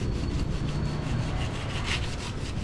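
Steady rasping and rubbing of a metal file and sandpaper worked in a circular motion to round a piece, continuous and close with dense scraping texture and no talk.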